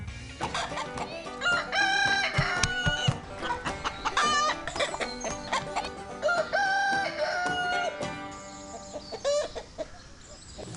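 Kev the Psychic Chicken, a rooster-type bird, crows and clucks close up in a busy, repeated string of calls, with loud cock-a-doodle-doo phrases broken by shorter clucks and squawks.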